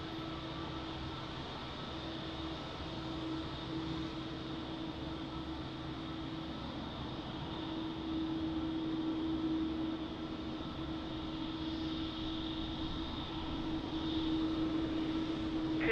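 An American Airlines Boeing 787-9 airliner at Lisbon Airport, its engines producing a steady, distant roar with a constant whine that slowly swells in loudness, with no voices.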